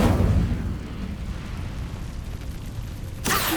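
The Incendio fire spell from Hogwarts Legacy is cast with a dense, continuous roaring whoosh of flame that sustains loudly for several seconds and then swells again briefly at the end.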